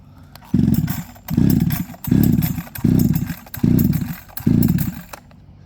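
An Echo 7310 chainsaw is throttled up to wide-open six times in a regular rhythm, each loud close roaring burst lasting about half a second before dropping back to a lower idle.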